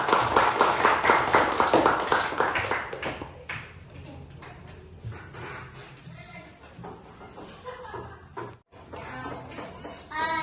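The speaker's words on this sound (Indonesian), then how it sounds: "Tepuk tangan dulu untuk kelompok 3." Classroom applause for a student group during a teaching practice lesson, a burst of clapping from many students that is loud at first and then thins out, with scattered voices and chatter continuing beneath it.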